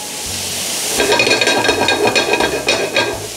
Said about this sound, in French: Un petit jus de citron pour déglacer un peu les sucs de la poêle